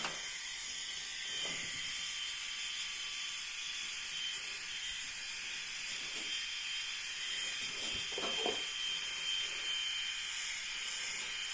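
A compact ENCHEN Victor rotary electric shaver runs with a steady, fairly quiet high-pitched whir. A few faint handling clicks and rustles break in now and then.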